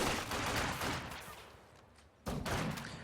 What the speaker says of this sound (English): You can suppress them with the Maxim and then shell them with the mortar.